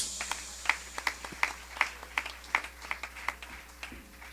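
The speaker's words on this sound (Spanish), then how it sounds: "Levante un aplauso a Dios" Rhythmic, evenly spaced clapping from a church congregation, fairly faint and steady, accompanied by a low hum.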